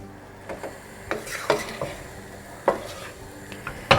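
Spatula clinks and scrapes as vegetable pulao made with cooked rice is mixed in a kadhai over high heat, several sharp irregular knocks over a faint sizzle, close and fairly quiet.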